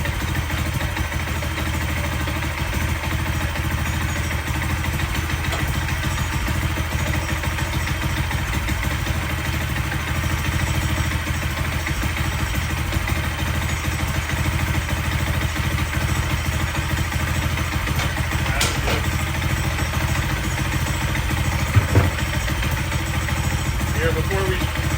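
A motorcycle engine idles steadily right after startup, a loud, even rumble that holds without a break for the whole stretch, with one brief knock near the end.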